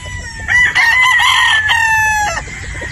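A tenheads battle stag game fowl from Cebu crows loudly and close, one long drawn-out call with a rising start, over steady background noise.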